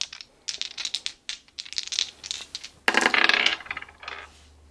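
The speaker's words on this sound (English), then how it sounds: "I actually have some astrology dice that I want to use" Astrology dice rattle and clatter as they are shaken and rolled, a rapid series of small hard clicks followed by a louder tumbling burst and a few final taps, close and alone.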